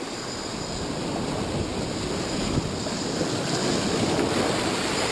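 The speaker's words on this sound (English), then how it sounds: "You've got the current sucking that way, waves coming that way." Ocean waves and a strong current churning at a coastal fishing spot, a steady, loud wash of surf and water movement with wind buffeting the microphone throughout, no voices.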